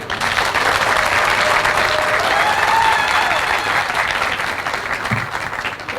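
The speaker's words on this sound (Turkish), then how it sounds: "Şimdi ilkin bakanıma bir alkışınızı rica etsem" Loud, sustained applause from a large crowd of farmers in Gaziantep for a government minister fills the space, steady clapping throughout with a slight fade near the end.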